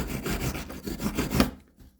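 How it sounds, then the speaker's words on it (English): A soft brass wire brush scrubs rust from the worm gear of a guitar tuner in quick back-and-forth strokes, a close, scratchy rasping rhythm that stops abruptly near the end. "try and hit the rusty warm gear with a soft wire brush that has brass wire"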